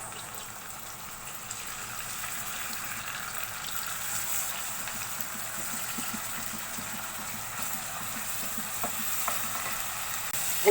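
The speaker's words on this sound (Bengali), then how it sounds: "তারপর তেল দিয়ে দিচ্ছি। এখানে কিছু পেঁয়াজ দিয়ে দিচ্ছি।" Onions and ground onion paste fry in oil in a pan for a prawn curry, giving a steady, low, even sizzle with faint stirring and no talking.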